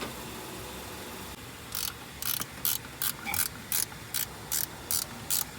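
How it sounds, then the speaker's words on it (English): A ratchet clicks in quick bursts while tightening nuts during brake master cylinder work on a 1982 Mercury Capri 5.0, about ten short evenly spaced ratcheting pulls, close and fairly quiet, over faint background hum. "Tighten your nuts."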